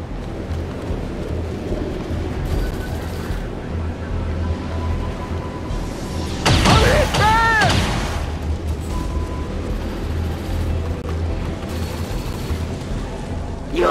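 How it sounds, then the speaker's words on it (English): Heavy gunfire and explosive blasts in the XCOM 2 War of the Chosen combat game, a dense rumbling barrage that surges loudest midway, with booming impacts over constant battle noise. "There's heavy fire in this zone!"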